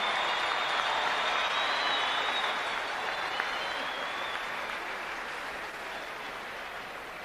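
A large arena crowd at an NBA game in Sacramento applauds Mayor Heather Fargo, a dense, sustained wash of clapping and cheering that holds loud and slowly eases over several seconds.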